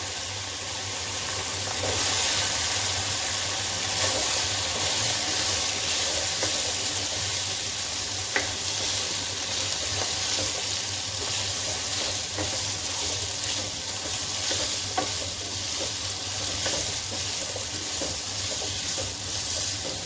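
Chickpeas go into a pan of yogurt masala cooked until the oil separates, giving a steady, loud sizzle and frying hiss throughout with faint stirring clinks and no talk.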